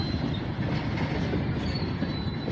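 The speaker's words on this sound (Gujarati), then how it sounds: "હવે ટ્રેન આવશે આગળ." A very long train rolling past nearby on the track to Bhimrana near Okha, a steady heavy rumble of wagons with rail clatter and faint squeal, continuous throughout with no voices.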